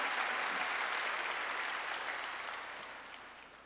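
A church congregation claps together during a Korean sermon, a steady broad wash of applause at moderate level that gradually thins and fades toward the end, with no voices over it.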